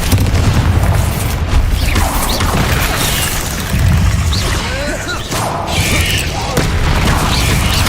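Spell combat in Hogwarts Legacy with Confringo blasts: a loud, dense stream of booms, crashes and bursting impacts that carries on throughout, with game voices in the mix.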